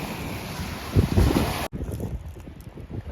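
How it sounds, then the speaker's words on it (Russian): Wind gusts buffet the microphone in heavy low thumps, then a sudden cut to a quieter, steady windy hiss. "сегодня какой-то ветер сильный"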